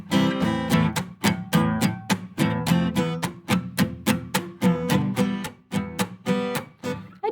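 Rhythmic guitar chords strummed in a steady pattern, played poorly so they sound choked and fail to ring out, each stroke cut short; close, fairly loud, no talking.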